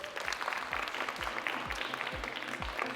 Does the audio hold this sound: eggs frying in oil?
no